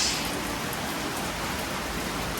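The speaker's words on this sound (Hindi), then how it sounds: "बारिश कितनी गहरी हो रही है, बहुत ज़्यादा बारिश अच्छी वाली हो रही है" Heavy monsoon rain pours down in a dense, steady roar, loud and unbroken throughout, with no voices.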